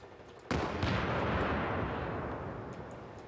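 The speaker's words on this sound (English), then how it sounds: "We're taking fire." Company of Heroes 3 battle: a sudden loud burst of gunfire and artillery erupts, then a dense rolling barrage of shots and blasts continues and slowly fades, with no talk.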